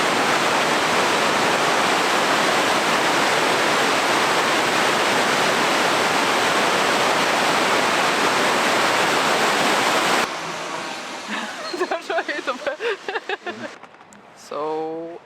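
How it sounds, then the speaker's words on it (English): A waterfall on a river in Lillehammer, Norway, roars as a loud, steady rush of water for about ten seconds, then cuts away to people talking. "it's a beautiful waterfall in the river that we already talked about."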